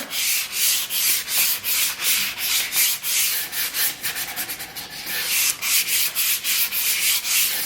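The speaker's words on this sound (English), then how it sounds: "I'm just going to wipe over it with my 180 grit sandpaper" Rhythmic back-and-forth scratching of 180 grit sandpaper over a very smooth, shiny wooden serving tray board, close and steady with regular strokes and no talking.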